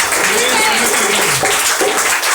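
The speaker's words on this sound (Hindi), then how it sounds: "तालियों का आवाज आना चाहिए" A congregation claps steadily at a New Year church gathering, a dense continuous wash of applause with a voice audible over it throughout.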